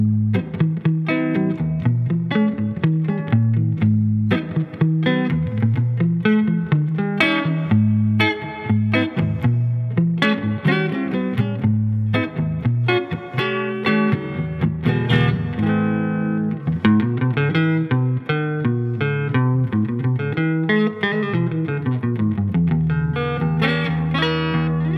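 A clean 1954 Epiphone Zephyr Emperor Regent archtop electric guitar plays chords and single-note lines through a Fender Princeton Reverb tube amp with light reverb, continuous and close.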